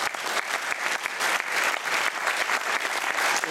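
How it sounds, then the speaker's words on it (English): An audience applauds for a music educator at a concert event, sustained dense clapping at steady loudness throughout, with no speech over it. "I think everybody should put their hands together for Charlie Richards there."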